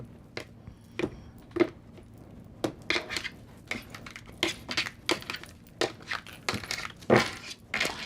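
A tarot deck is cut by hand, producing a run of crisp, close clicks and light slaps of the cards at an uneven rhythm, with no one talking.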